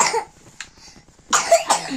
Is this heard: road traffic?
no